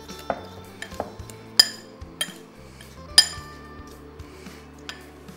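A spoon clinks against a bowl while guinea fowl stuffing is mixed, with sharp metallic taps and rings at uneven intervals, a few louder knocks, and scraping in between. Close and clear, with no voices.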